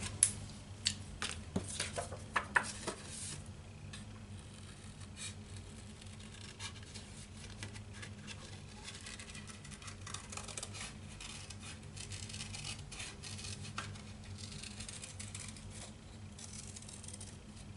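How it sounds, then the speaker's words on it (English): Scissors fussy cutting a small stamped paper sentiment for a handmade card, a soft, close run of small snips and paper scratches that starts with a few sharper clicks and then settles into a steady, quiet rustle. "Now I'm going to go ahead and just fussy cut this little sentiment."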